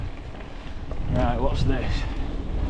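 Wind buffets the microphone during a mountain bike run at Leeds Urban Bike Park, a loud rushing roar that builds under a rider's brief spoken words.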